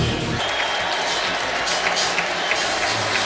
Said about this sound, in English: all of the New England fans that are still here at First Energy Stadium standing and applauding and chanting Tom Brady's name